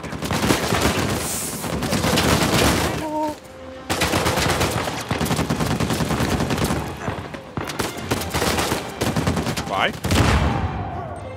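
Rapid turret gunfire in Uncharted 4 hammers almost nonstop, loud and dense bursts with a brief pause near the start and another later, with faint voices buried under the shooting.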